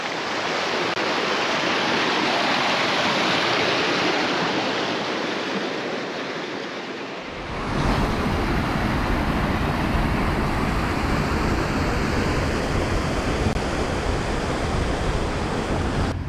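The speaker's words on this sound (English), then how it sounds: "A waterfall." Continuous roaring rush of falling water, broad and steady, growing deeper and heavier partway through as the sound comes closer.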